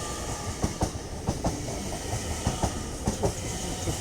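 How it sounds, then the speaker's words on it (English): LNER Azuma train 801225 passes through Doncaster station with a loud steady rumble and rhythmic clickety-clack of wheels over rail joints, close by, with no talking. "801225 with an LNER Zuma service through to Edinburgh Waverley."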